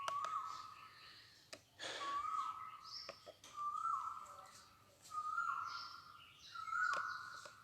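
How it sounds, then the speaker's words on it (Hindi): Asian koel calling repeatedly outdoors at an ashram in Faridabad, a series of rising whistled notes at steady intervals, moderately loud over faint background murmur and occasional knocks. "कोयल की आवाज़ आप सुन रहे हैं?"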